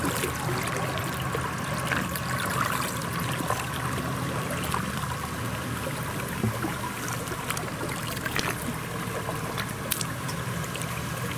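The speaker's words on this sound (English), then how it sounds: "You can hear the water." A stream in the Cederberg mountains runs steadily, a continuous broadband rush of water that stays even and moderately faint for the whole stretch, with no voices.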